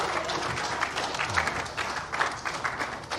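A crowd at a boxing weigh-in claps in steady, dense applause, with bursts of cheering rising and falling throughout.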